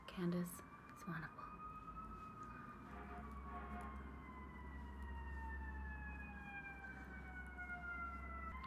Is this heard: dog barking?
no